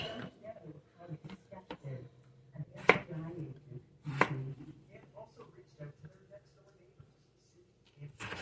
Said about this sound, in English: we're gonna cut these potatoes up